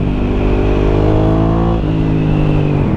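A Ducati Hypermotard 1100 Evo motorcycle engine revs through short, sharp throttle blips, its pitch climbing and dropping in quick bursts, loud and close over a steady engine rumble.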